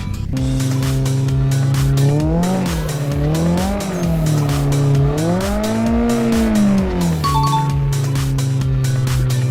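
A car drifts through a curve in a racing simulator game, with a loud engine revving and falling over a long, wavering tire squeal that runs almost the whole time, and no talking.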